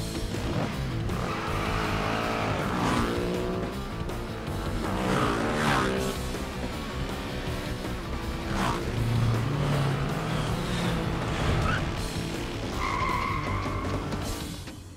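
Cartoon motorcycle stunt with a revving engine and squealing, skidding tires, loud and close, mixed with music and sound effects, swelling and fading in bursts.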